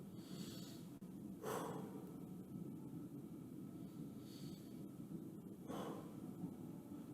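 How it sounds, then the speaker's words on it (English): Slow, deep breathing during a stretching workout. Two long, audible breaths, each a soft airy rush, sit close against a steady low hum. "Two more deep breaths, and we'll switch sides here."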